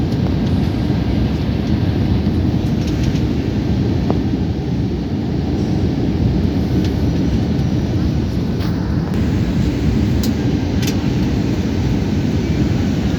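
Steady, loud broadband roar of an Air Asia airliner cabin during cruise, a continuous engine and airflow drone that holds evenly throughout with no clear breaks.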